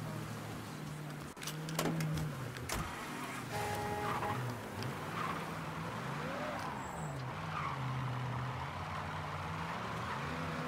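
Video game car driving in Mafia 3, with a steady engine drone and repeated tire skids and squeals as it corners, close and continuous, plus a few sharp knocks and thuds along the way.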